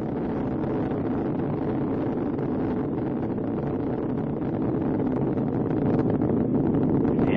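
Space Shuttle Atlantis' three main engines roar during launch ascent, heard as a dense, steady rumbling wash of broadband noise with some wind buffeting that swells slightly louder toward the end.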